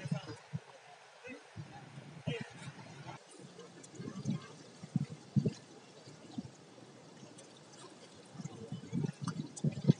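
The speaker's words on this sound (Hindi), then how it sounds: "ये देखिए माँ गंगा की गंगा की लहरें" Ganges river water laps at Vishnu Ghat in Haridwar, with soft, irregular splashes and gurgles close by over a quiet background and a few louder slaps of water.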